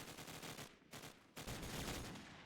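Rapid bursts of video game gunfire from a Call of Duty 4 LAN match, dense overlapping shots in quick volleys with a brief lull in the middle, fairly faint and heard without talk.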